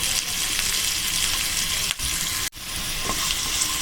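Finely chopped onion and carrot sauté in a pan for white sauce pasta, with a loud, steady sizzle and stirring, cut by two brief dropouts.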